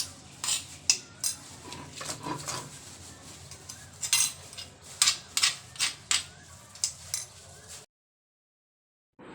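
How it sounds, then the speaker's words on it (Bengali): Fried kachu being ground by hand on a pata grinding stone for a spicy bhorta, a close series of sharp scraping and clacking strokes in an uneven rhythm, then a stop into silence near the end. "এই কাঠকসুটা আমি পাটায় বেটে ভর্তা করব"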